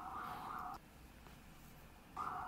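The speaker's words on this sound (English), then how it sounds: "I'm just going to keep the sirens in because, we're talking about riots right now." Police or emergency siren wailing in the background, faint and distant, heard in two brief bursts with a quiet gap between them.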